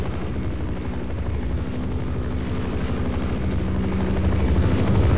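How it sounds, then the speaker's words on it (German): Helicopter in the video game Half-Life: Source, a loud, steady rotor and engine roar that holds constant and swells slightly toward the end, with no talk over it. "Da ist der Heli."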